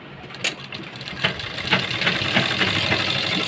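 A sewing machine stitches palazzo fabric up close, whirring steadily with a faint clattering rhythm that builds slightly in pace.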